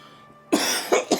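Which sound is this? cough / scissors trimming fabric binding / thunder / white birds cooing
cough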